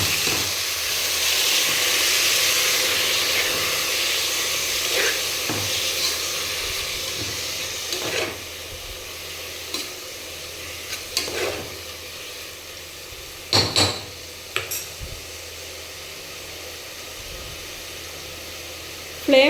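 Spinach leaves added to a hot pan in a home kitchen, frying with a steady hiss and sizzle that is loudest at first and eases off, with occasional clinks and bumps near the end.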